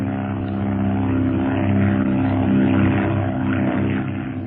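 A propeller airplane climbs with a steady, droning engine hum that swells slightly and then eases, continuous and fairly close, with no voices over it.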